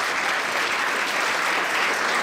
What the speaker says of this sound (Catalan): Demano un aplaudiment per l'entitat i també un aplaudiment per a totes les persones que estan aquí fent solidaritat